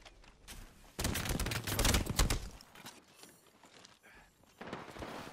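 Burst of automatic gunfire in the shooter game Apex Legends, a dense rapid volley lasting over a second, followed by quieter clatter and a second softer burst near the end.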